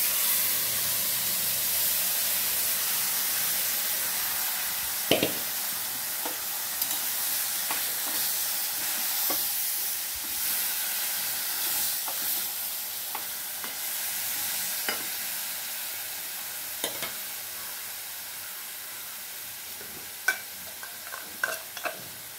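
Mashed banana stem tipped into hot oil seasoned with black cumin seeds, sizzling and hissing steadily throughout, with occasional scrapes and knocks of a utensil against the pan; no talking.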